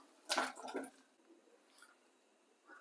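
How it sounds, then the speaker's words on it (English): Pumpkin pieces dropped into a pot of boiling water, giving a close, brief cluster of splashes and wet plops, then quiet bubbling with a faint later splash. "So over here I have my water boiling."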